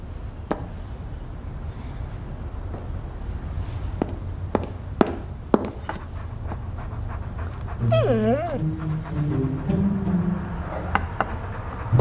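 A dog whimpering and whining in a high, wavering cry near the middle, amid scattered footsteps and light clicks, fairly close and moderately loud with no talk.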